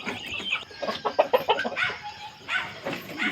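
Silkie chickens clucking and chattering close by, a run of short bursts in the middle followed by more clucks, with a busy farmyard bird backdrop.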